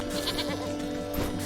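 A human voice imitates a goat bleat, a wavering nasal call heard faintly over a humming background.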